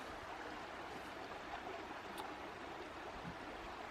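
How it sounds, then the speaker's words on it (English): Continuous broadband rushing of a creek flowing below a mossy bridge in the countryside, a steady wash of water with no talking. "Then there is the creek down there below."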